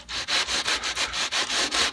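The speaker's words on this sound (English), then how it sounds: "we've got a nice little sanding block that's flat and it's long. So as I sand down the length of this" A long flat sanding block rubs back and forth along a guitar neck in steady, even strokes, roughly eight passes in two seconds, close and clear with no voices.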